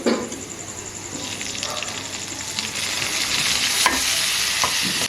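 Chopped tomato frying with browned onions in a pan, a steady close sizzle with scraping stirs and occasional spatula knocks, growing slightly louder, with no talk.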